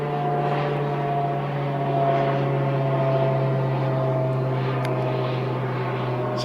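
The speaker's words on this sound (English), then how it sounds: "I'm going to let this plane pass overhead." A fixed-wing airplane passes overhead near an airport, its loud steady engine drone holding a low hum with a broad rushing wash that swells slightly mid-pass and stays constant throughout, with no voices.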